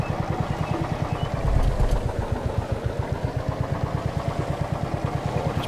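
A simulated tractor engine in a tractor repair mechanic game labors up a hill, a loud, steady low chugging beat with a brief surge in power partway through, alone without speech.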